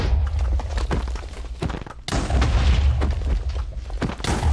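A video game rocket launcher fires with heavy booming explosions and thuds, a loud close blast at mid-point followed by rumbling impacts.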